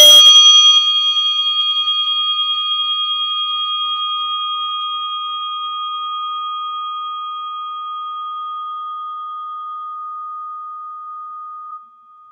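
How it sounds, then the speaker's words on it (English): A meditation bell is struck once and rings out alone with a pure, steady tone that slowly fades over many seconds in a quiet room. "place it gently and lovingly on the sound of this bell."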